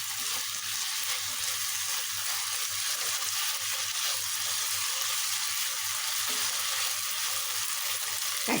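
Chicken fries in a pan with sliced green chilies, a dense, steady hiss of hot oil that runs unbroken and fairly loud, with a faint low hum underneath.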